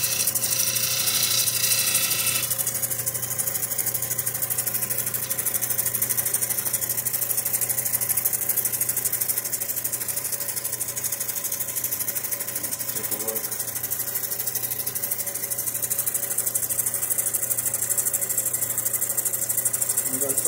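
A lapidary wheel grinds the back and sides of a fire agate stone being finished for jewelry, giving a steady mechanical whir with a rattling, ratchet-like texture that runs without pause, close and loud.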